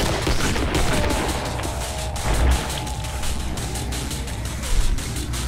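Rapid bursts of gunfire ring out in the video game Killing Floor, with repeated shots and fusillade-like volleys running steadily throughout.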